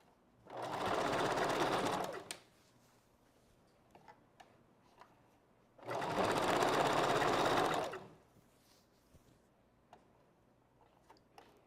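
A sewing machine back stitching wig material runs in two steady bursts of about two seconds each, separated by quiet pauses with faint clicks.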